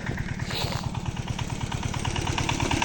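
A Zubr 8 motor tractor's single-cylinder engine chugs loudly and close up with a fast, steady pulsing beat while the tractor drives through a muddy marsh on a firewood run.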